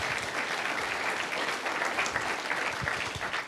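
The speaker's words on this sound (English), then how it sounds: "So, quick applaud for Sonny." A room full of people at a Toronto Bitcoin and Ethereum fintech summit applauds, a dense, steady burst of clapping that holds evenly throughout.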